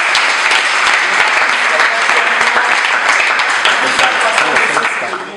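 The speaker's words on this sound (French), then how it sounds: "Alors vous pouvez encore l'acclamer pour l'encourager." An audience applauds a Congolese artist at an event promoting Congolese artists, dense steady clapping filling the whole stretch and tapering slightly at the end.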